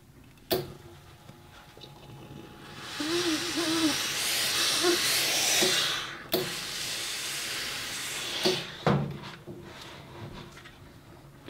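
A steam iron presses garment lining over a tailor's ham while sewing, giving a soft hissing burst of steam with clicks and thumps as the iron is set down and moved.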